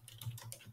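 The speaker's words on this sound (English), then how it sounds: "And I'm going to type in Collab here." Fingers type on a computer keyboard in a quick, quiet burst of a few close key clicks, lasting under a second.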